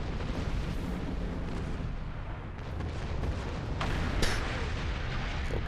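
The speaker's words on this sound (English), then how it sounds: "he just detonated his own core." A starship's core detonates in Star Trek Online, a heavy rumbling explosion that rolls on for several seconds with a sharper burst near the end.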